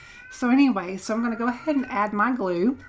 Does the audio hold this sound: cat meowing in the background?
yes